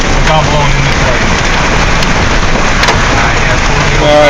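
Hail in a Chicago hailstorm clatters densely and continuously on nearby surfaces, a loud, steady roar of rapid impacts with sharper individual cracks standing out.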